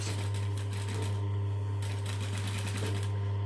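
A sewing machine stitches back and forth over elastic on a homemade eye sleep mask, with a steady low motor hum under a rapid, continuous needle chatter that runs the whole time without a break.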